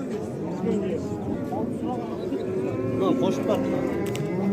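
Cow with her calf at the Ozgon livestock market, giving low drawn-out moos over a crowded background murmur of people talking nearby.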